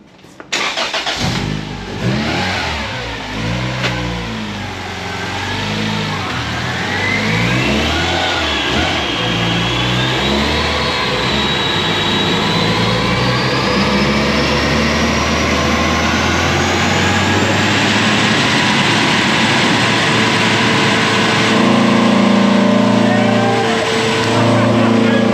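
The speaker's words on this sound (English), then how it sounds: "we're going to engage VTEC and just see if it makes changes" A Honda Civic engine revs hard on a dyno, the pitch climbing steadily as it pulls through the rev range with VTEC engaging, loud and close. A sustained high whine rides over it.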